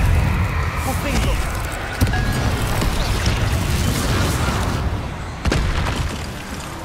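Confringo fire spell blasting in the Hogwarts Legacy video game, loud booming explosive bursts over dense rumbling game noise, with sharper impacts around two and five and a half seconds.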